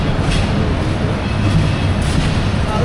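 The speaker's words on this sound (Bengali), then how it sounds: "10:48 আমাদের ট্রেন ছাড়লো।" The Kishoreganj Express, Bangladesh Railway train 781-782 on the Dhaka to Kishoreganj route, pulls out and runs with a loud, continuous low rumble and rattle of wagons, steady and close throughout.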